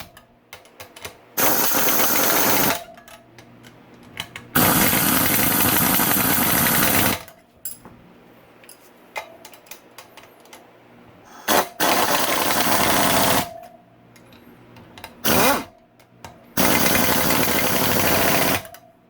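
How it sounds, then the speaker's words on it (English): Bursts of a pneumatic impact wrench on its lowest torque setting seat sprocket bolts during a chain and sprocket installation, several loud hammering runs of one to three seconds separated by quiet pauses. "Now I'll use my impact here just to seat them down."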